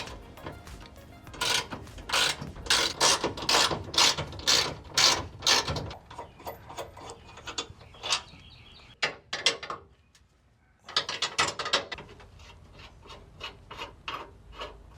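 Ratchet wrench with a 25 mm socket spinning large bolts off a truck bed step, a quick series of loud, close clicking bursts separated by brief pauses, with no talking.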